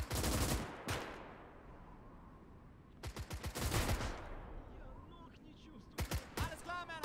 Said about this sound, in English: Alright, we'll take a machine gun with us.